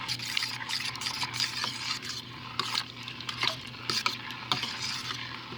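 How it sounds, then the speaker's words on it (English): Pureed broccoli and cauliflower soup ingredients get stirred in a hot pot, a spoon scraping and clinking repeatedly over a soft constant sizzle, close and busy with no talking. "And we're going to stir all this around."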